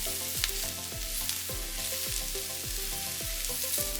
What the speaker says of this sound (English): we're going to turn the heat on medium now. And we're going to keep on cooking until it becomes soft.